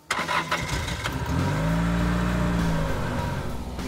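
A cartoon car accelerates as the driver steps on the gas, its engine revving up loud and close into a rising whine that holds, then tapers off.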